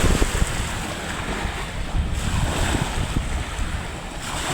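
Sea surf at Kozhikode beach rushes and washes steadily close by, mixed with strong wind buffeting the microphone, with no voices.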